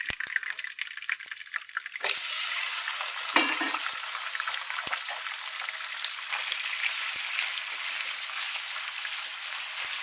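Chicken pieces frying in hot oil in a pan, a steady close sizzle that swells sharply after a couple of seconds and continues with faint stirring clicks.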